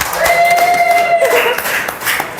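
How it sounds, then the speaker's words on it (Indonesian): Brief clapping from a classroom group after a student presentation, a short burst of hands with a whistle-like tone over it, fading quickly. "tepuk tangan untuk kelompok 2."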